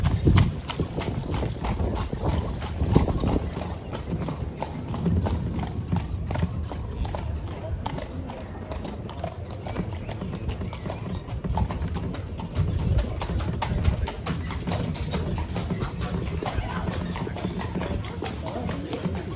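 Horses pull a tourist carriage through the streets of Bruges, Belgium, their hooves clip-clopping in a steady, continuous rhythm close by, with a guide's voice talking over the hoofbeats throughout.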